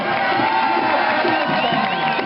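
A crowd at a palio race in Pignarulars cheers and shouts, a loud continuous roar of many voices with high whoops rising above it, as though spectators greet a competitor arriving.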